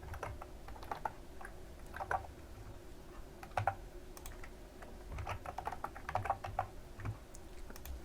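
Fingers type on a computer keyboard in quick irregular bursts of crisp clicks, close and steady over a low background hum, with no voices.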